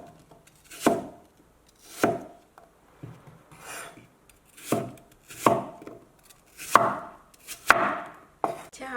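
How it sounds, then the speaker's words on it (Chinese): A knife chopping a peeled, cored apple into small pieces on a board, about eight separate cuts in an uneven rhythm, each a short crisp crunch and thud, close and clear with no talk. "去核之后再切成小块。"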